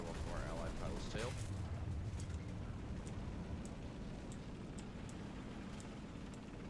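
Rapid 75 mm quick-firing gun shots in the War Thunder video game, a run of short sharp reports repeating at a quick, steady pace over a constant low engine drone, fairly faint and distant.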